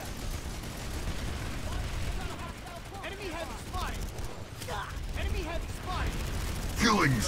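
Gunfire from the Planetside 2 video game, sustained bursts and rattling shots over a dense battle din, with players talking throughout.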